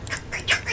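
A squeaky dog toy gives a few short, high-pitched squeals in quick succession, close by, with no talk over them.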